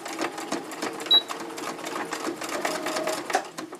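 A sewing machine stitching fabric for a printed pad, running steadily at close range with brief pauses and speed changes, alone with no talk.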